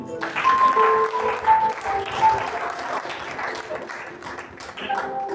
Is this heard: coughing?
no